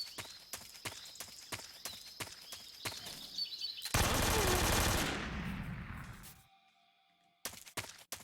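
Rapid bursts of AK rifle fire crackle in Metal Gear Solid 3: Snake Eater, a quick series of close shots followed by a dense, loud sustained roar that fades out, then a few more clipped shots.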